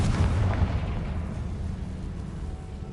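A Confrigo spell explosion in the Hogwarts Legacy video game, a single loud, deep burst that starts at full force and then slowly dies away into a fading rumble.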